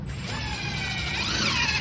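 Power driver sinking 2-inch screws into a wooden chair during assembly, a steady whirring drive with a rising pitch toward the end, close and fairly loud with no talking.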